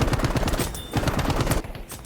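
Rapid bursts of machine-gun fire from a Corsair fighter plane in the video game Battlefield 5, a loud, fast, rhythmic stutter of shots with a brief pause before a final short burst.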